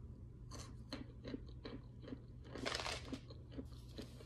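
Crunchy freezer-chilled chunks bitten and chewed during a pho meal: a run of sharp, close crunches at an uneven pace, with a denser burst of crackling chewing partway through and no talking.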